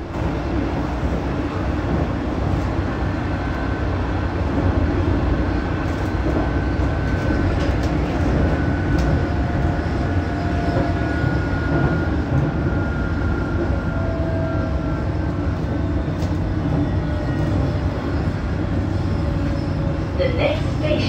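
London Underground Metropolitan line train runs near Harrow-on-the-Hill toward Uxbridge, a continuous rolling rumble with wheel and motor tones, steady and close throughout, with faint whines drifting in and out.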